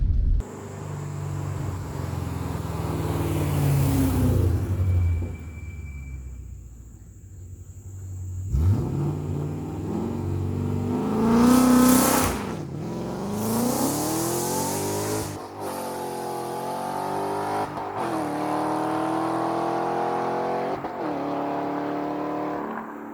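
A manual Ford Mustang with an MT-82 gearbox does a dig launch, its engine revving loudly, bogging, then screaming up through the gears with sharp shift breaks, heard close and alone.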